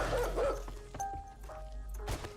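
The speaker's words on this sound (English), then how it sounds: "we definitely have a dog coming for us" Dog barking in the video game 7 Days to Die, a few short yips and barks over a low rumbling game background, moderately close, with no talking.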